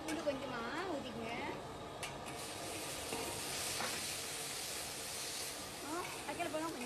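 Onions fry with ginger garlic paste in a pan for crab masala, giving a steady close sizzle with occasional stirring scrapes, while someone talks over the cooking.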